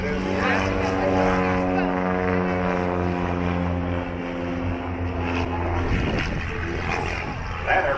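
A Piper Cub light propeller airplane flies past at a concours d'elegance, its engine a steady droning hum with strong harmonic tones that shift near the end, heard loud and continuous over outdoor background.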